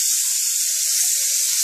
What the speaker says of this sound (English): I flipped them over to get them some cooking time on the other side.